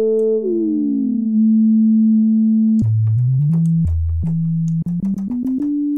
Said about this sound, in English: You have a sine wave.